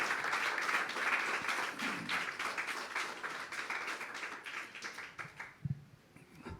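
Church congregation applause, a moderately quiet spread of clapping that fills the space and gradually thins into a few distinct claps and thumps at the end.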